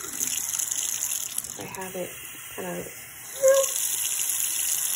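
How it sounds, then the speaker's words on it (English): Water runs from a bathroom tap into a sink, a steady rushing gush close by, with someone speaking briefly over it. "Whenever I turn on the water"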